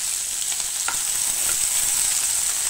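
Chopped onion, green chilli and capsicum sizzle in a hot pan, a bright, steady crackle of frying with a few soft stirring scrapes, close and continuous.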